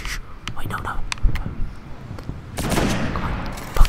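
Bursts of rifle fire from the video game Destiny, with rapid scattered shots and a denser volley near the end, while a player talks excitedly over the shooting.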